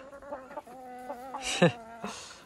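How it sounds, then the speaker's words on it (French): Hens cluck softly in a steady, close run of short calls, broken by one sudden sharp squawk. "qu'est-ce qu'il y a là les poules?"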